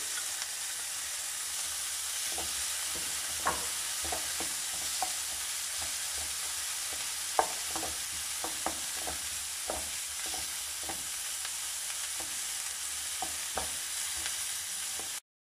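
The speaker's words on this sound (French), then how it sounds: "Je le fais revenir dans de l'huile avec le poireau que vous aurez rincé, égoutté." Rinsed, drained leek sautés in oil in a pan, giving a loud, even hiss throughout with a steady run of utensil taps and scrapes as it is stirred.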